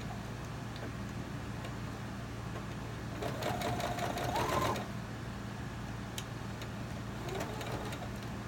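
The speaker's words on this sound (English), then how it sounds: "I'm going to sew right along here." A sewing machine runs steadily, stitching fabric for a hair scrunchie with a constant mechanical whir that rises briefly in the middle, recorded close up with no talking.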